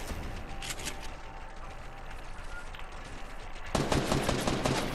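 Gunfire in a Fortnite match rattles in quick bursts throughout, growing louder and denser near the end as the shots come closer.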